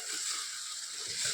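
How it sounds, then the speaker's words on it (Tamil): Amla (gooseberry) paste being stirred as it fries in oil in a pan, giving a steady soft sizzle and faint scraping that runs evenly throughout at moderate level, with no voices. "நெல்லிக்காய் சேர்த்துட்டு நல்லா கிண்டி கொடுத்துக்கோங்க"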